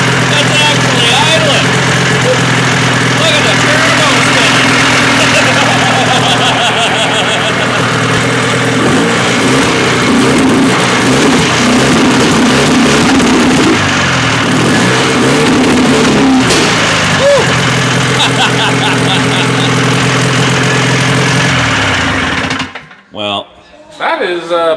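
A 1974 Johnson 440 engine idles loudly and close with a rough, steady running note that lasts before abruptly cutting out near the end, while people talk excitedly over it.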